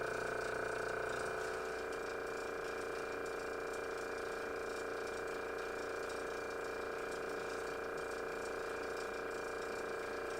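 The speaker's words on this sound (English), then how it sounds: "It stopped exposing, yet the vacuum is still on, and you can stop the vacuum manually just by hitting the button." The vacuum pump of a screen-printing exposure unit runs steadily, a loud, continuous mechanical whir with a faint rattle that holds even throughout, with no talk over it.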